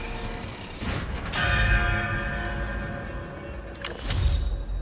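A bell rings inside a large hangar in the Spider-Man 2 video game, struck twice with loud metallic clangs, each followed by a long, echoing shimmer that hangs in the reverberant space.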